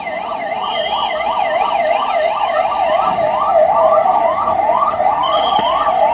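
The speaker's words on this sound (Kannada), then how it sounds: "ಆಂಬುಲೆನ್ಸ್" An ambulance siren wails loudly and continuously during an emergency anti-terror mock drill in Kolar, cycling its rising and falling tone at a steady fast rate, close by, with no voices.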